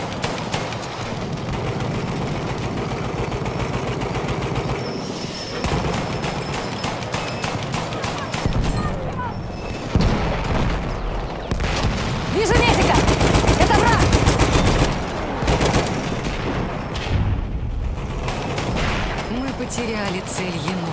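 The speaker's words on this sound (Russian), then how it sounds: "Вражеский пулемет!" Enemy machine gun fire rattles in a Battlefield 1 conquest match on Lupkow Pass, in long, dense bursts mixed with other gunfire and explosions across the battlefield. A player's voice speaks over the loud, continuous combat.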